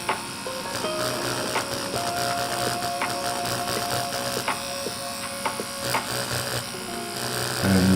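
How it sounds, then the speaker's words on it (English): A Dragonhawk Fold Pro rotary tattoo machine runs steadily with a continuous electric buzz while stippling a LEGO skull character design, holding an even hum throughout with small clicks and shifts as it works. "This machine is called the Dragonhawk Fold Pro."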